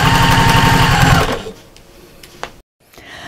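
A sewing machine runs at a fast, steady whirring clatter while stitching a cushion, then stops abruptly, leaving a quiet room with a few faint clicks.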